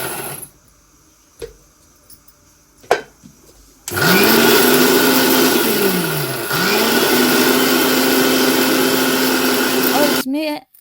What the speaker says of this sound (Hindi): तो मिक्सी में पीस लेंगे।